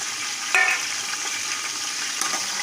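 Onions going into hot oil in a pan for khichdi, a continuous sizzle with a brief louder clatter near the start and a second small knock later, no voices.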